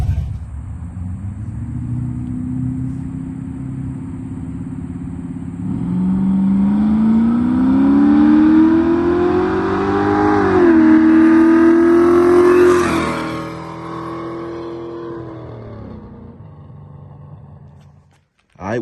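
A Chevrolet Monte Carlo is driven hard, its engine droning loud and close and then revving steadily higher under acceleration before a gear change. The revs climb again and finally fade toward idle.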